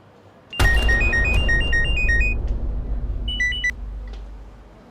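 A mobile phone ringtone plays an unanswered call: a bright melody of short beeping notes runs for about two seconds, then returns briefly, over a loud, low, rumbling background with no speech.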